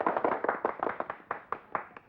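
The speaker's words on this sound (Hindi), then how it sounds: "तालियां!" A small group of people in a village clapping in a quick, uneven burst of about a dozen sharp claps, close and clear with no talking.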